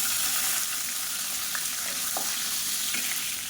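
Halved small onions sizzle in hot oil alongside popping mustard seeds, fennel and curry leaves, a dense, close, constant frying hiss broken by a few faint crackles, with no voices.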